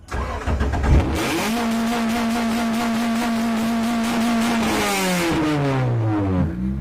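A manual stick-shift car cranks and fires up, then holds a steady, loud idle-like engine drone before revving and pulling away, heard up close with no talking.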